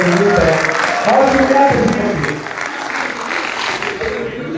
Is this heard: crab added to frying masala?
no